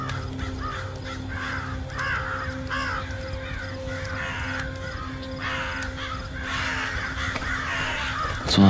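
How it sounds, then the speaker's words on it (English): Crows caw repeatedly in a harsh, rhythmic series, several birds calling over a steady low hum and background ambience, loud and fairly close throughout with a sharper burst near the end. "What's with all these crows?"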